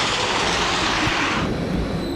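A train passes close by in the Swiss Alps as a broad, steady rumble and roar that holds for a couple of seconds, then eases slightly.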